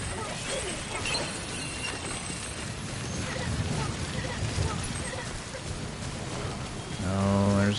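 Rainstorm in Death Stranding, with steady hiss of rain on surfaces and a low rumble beneath, constant and enveloping for several seconds before a louder low tone swells at the end.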